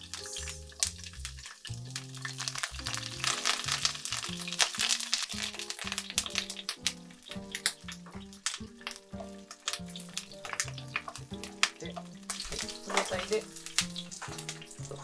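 Rapeseed blossom stems fry in a heated frying pan over medium-high heat with garlic and chili oil: close crackling and sizzling with irregular popping and clinks, continuing for the whole stretch, quiet overall.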